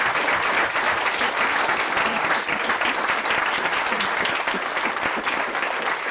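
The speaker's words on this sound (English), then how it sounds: "Big applause for them" Audience gives a big round of applause at a talk with freediver Alessia Zecchini, dense continuous clapping from a crowd, steady and fairly loud throughout with no voices standing out.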